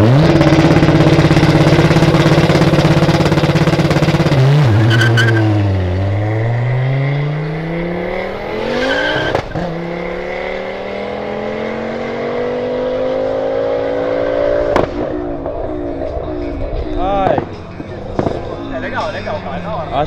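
A modified Volkswagen Jetta launching hard, its engine roaring loud and close as revs climb, drop briefly at a gear change, then build again in a long sustained pull, with sharp pops and crowd noise around it.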